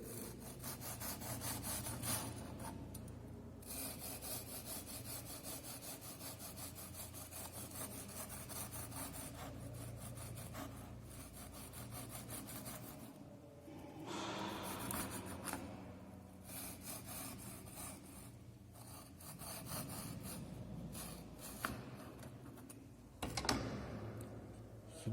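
Knife slicing baked almond biscotti into 1.5 inch pieces, a continuous scraping, sawing rasp through the firm loaf, with short pauses between cuts, close and quiet.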